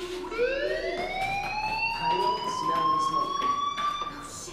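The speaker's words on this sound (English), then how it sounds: "Hey, do you hear that fire alarm?" A school fire alarm in the video game Life Is Strange wails with a rising, steady electronic tone that holds for several seconds, loud and continuous with faint background noise.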